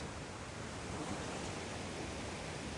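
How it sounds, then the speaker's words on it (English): A crazy waterfall and hectic creek roar through a mountain gorge by the Da'an River in Taiwan, a dense, steady wash of rushing water filling the whole clip with no voices. "crazy waterfall, hectic creek"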